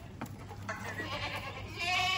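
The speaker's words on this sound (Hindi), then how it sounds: "ये देखिए बकरे चेक करो एकदम तगड़े" Goats at a goat farm bleat, a wavering cry building toward the end and rising in loudness, with faint background noise and no talk.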